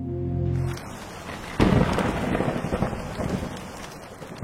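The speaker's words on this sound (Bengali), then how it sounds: "এমন বৃষ্টি শুরু হয়েছে, সঙ্গে এত পরিমাণে বজ্রপাত হচ্ছে" A cartoon-style thunderstorm with heavy rain: a sudden loud thunderclap crashes in, then a steady roar of rain and rumbling continues, with no voices.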